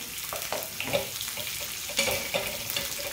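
Chopped onion sautéing in a pan on the stove for pitla, a steady close sizzle broken by several scraping stirs, with no one speaking.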